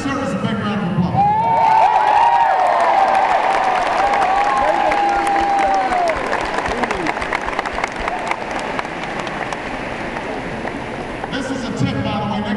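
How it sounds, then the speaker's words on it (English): A large rally crowd in Louisville breaks into sustained applause and cheering for the Secret Service, a broad, roaring wash of clapping with a voice calling out over it early on, slowly thinning over about twelve seconds. "Give Secret Service a big round of applause."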